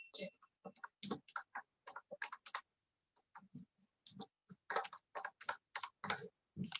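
Typing a sender's name on a computer keyboard: bursts of quick, close key clicks, a short pause near the middle, then another run of rapid keystrokes, with no talking.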